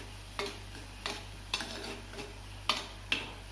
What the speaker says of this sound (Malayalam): ഇത് തിളച്ച് കഴിഞ്ഞ് നമുക്കിതൊന്ന് മിക്സ് ചെയ്ത് കൊടുക്കാം.